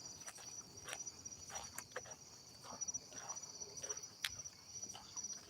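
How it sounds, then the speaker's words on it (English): Crickets chirp steadily through a warm night outdoors, a continuous high trill with a loud, close texture, joined by faint rustles and light scattered sounds, with no one speaking. "Ah, crickets are loud tonight."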